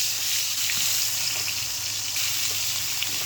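Duck eggs fry in hot oil in a pan, a continuous bright hiss and crackle of sizzling that stays steady and close from start to finish.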